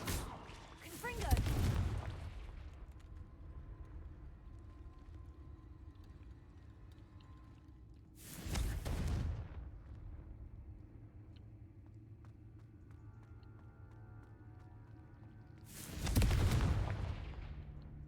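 Three heavy blasts from the Confringo spell in a Harry Potter video game burst several seconds apart, each a deep booming thud with a rumbling tail, over a low ambient hum.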